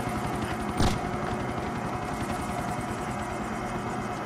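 A helicopter in Grand Theft Auto: The Ballad of Gay Tony makes a steady, loud rotor drone that runs throughout, with a brief louder burst near the start.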